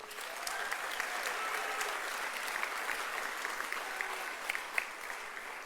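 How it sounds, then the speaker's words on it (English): Audience applause for the students in a school band and cheerleading squad at the Bearettes championship celebration, a steady, dense wash of clapping from a large crowd that holds an even level throughout with no talking over it. "would you please join me in a round of applause for these students?"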